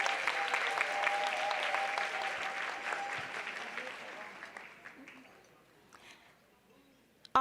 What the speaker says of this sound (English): Let's give them all a thunderous round of applause.